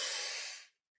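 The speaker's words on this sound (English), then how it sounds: "Take another deep breath" A deep breath is exhaled, one close, soft, airy rush that fades out over about half a second, followed by silence.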